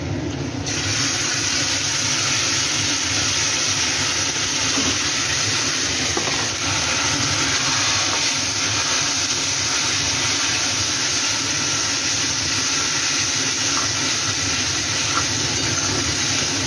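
Spice paste of ground onion, garlic, ginger, green chili and tomato going into a hot pan, giving a loud, steady hiss and sizzle that runs broadly unbroken throughout, with no talk over it.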